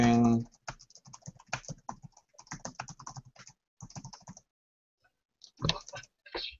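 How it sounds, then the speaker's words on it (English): Fingers type on a computer keyboard in a series of close, crisp clicks in uneven bursts with short pauses, and a voice is heard briefly at the start. "we're just typing in some of the questions"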